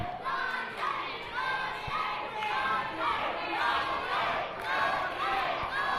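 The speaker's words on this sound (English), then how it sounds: "And listen to the crowd, they are trying to get behind Dante King." Wrestling crowd at an FSW I Quit match cheering and chanting in a continuous loud roar, voices rising and falling in waves with no break.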